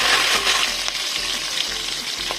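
Mustard-type tempering seeds, dried red chillies and curry leaves sizzling hard in hot oil for an onion chutney, a dense close crackle with faint stirring scrapes throughout.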